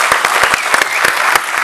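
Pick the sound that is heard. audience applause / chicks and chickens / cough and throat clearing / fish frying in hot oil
audience applause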